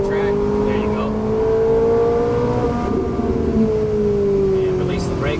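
A Ferrari 458 Italia on track pulling out of a turn, its engine note climbing in a loud, close, rising whine as it accelerates, with a voice coaching over the engine.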